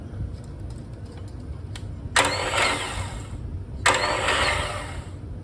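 Twin-cylinder water-cooled Honda ES6500 generator cranked by its starter on a jumper box, two short loud churning bursts of about a second each separated by a pause, close up.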